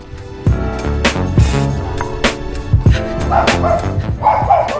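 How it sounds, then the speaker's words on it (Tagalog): A dog barks repeatedly in loud, sharp bursts at close range, with a few yips mixed in and no talking, during an uphill run through Metro Manila hills. "Ay, may aso."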